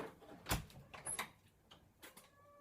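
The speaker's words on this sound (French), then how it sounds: "Attendez, j'ouvre la porte au chat." A door is opened indoors to let a cat in, heard as a few faint clicks and knocks of the latch and door moving in a quiet room.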